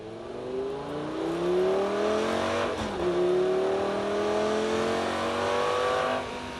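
A Lamborghini Gallardo engine pulls hard after a gear change, its rising revving tone climbing steadily, dipping briefly at the shift and climbing again, loud and close with no talk.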